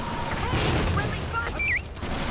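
Friendly gunfire bursts in Tactical Ops: Monster Attack, a dense rattle of shots running through the whole stretch, loud and close, with a game voice speaking over it.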